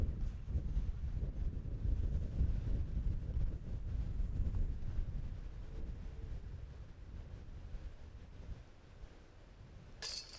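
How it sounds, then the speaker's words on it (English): Wind blows across an outdoor disc golf course during a tournament round, a low, steady rumble buffeting the microphone that eases gradually toward the end, with no one speaking. "just enough wind to make every putt interesting"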